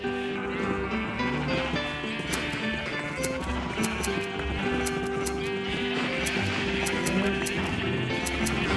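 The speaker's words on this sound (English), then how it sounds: "Alright, back at the starter house, let's shear some sheep" Sheep bleat repeatedly in the Minecraft video game, several overlapping cries at a starter house over steady game noise, with short regular clicking ticks running through.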